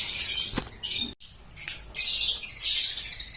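Harsh, shrill squawks from caged birds come in bursts close by, with a brief pause midway before a loud, continuous stretch of squawking.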